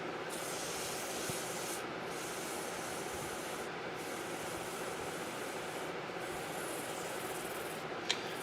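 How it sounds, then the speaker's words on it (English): Steady hand sanding of wood with 220 grit sandpaper to remove finishing marks on a custom handcrafted piece, a continuous close rubbing scrape with brief pauses between strokes and no talk. "Right now, I'm using a 220 grit, basically to get all of the finishing marks out."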